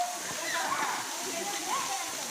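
The Gandahati waterfall gives off a constant rushing roar of falling water while people talk over it.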